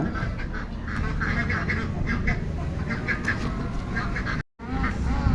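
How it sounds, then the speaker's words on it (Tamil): Many Pekin ducks quack repeatedly in a noisy chorus close by on a poultry farm, with steady background hum and a brief dropout near the end. "இங்கே இருக்கிற கோழிங்க வாத்துங்க சத்தத்தை கேட்டாலே மனசுக்கு ரொம்ப மகிழ்ச்சியாக இருக்குது"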